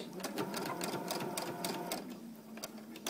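A sewing machine stitches straight across small felt pieces for a mini Christmas tree ornament, running as a steady close whirr with quick rhythmic needle clatter for the whole stretch, softening a little near the end.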